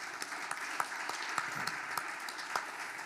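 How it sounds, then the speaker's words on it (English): Scattered, faint clapping from a small crowd at an awards event, light and uneven, heard from a distance over a soft background hiss. "So everybody gets an applause."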